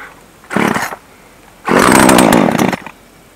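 A new Poulan Pro 42cc chainsaw with an 18-inch bar sputters briefly, then catches and roars loudly for about a second before cutting off, close and harsh with no speech.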